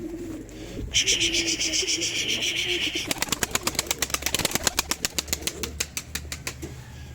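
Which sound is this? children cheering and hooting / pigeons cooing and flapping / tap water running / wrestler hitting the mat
pigeons cooing and flapping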